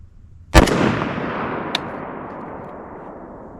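A single loud firearm shot at target practice cracks sharply and rolls into a long fading echo, with a faint click-like tick a second later.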